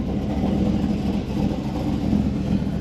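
A Chevrolet Sierra truck nicknamed the Mongoose, running on slicks, drives along with a steady, moderately loud engine drone and road rumble that holds constant throughout, no voices present.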